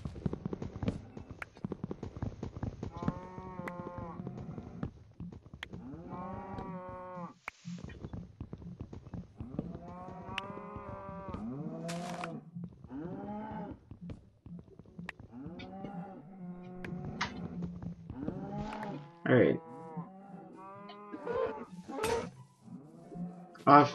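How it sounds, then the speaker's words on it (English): Cows in a game setting moo repeatedly and loudly, long drawn-out calls overlapping one another, with clunking and knocking sounds between them and someone talking at times. "Shut up, you stupid cows."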